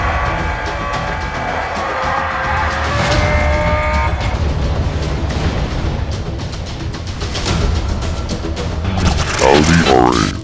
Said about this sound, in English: Audi R8.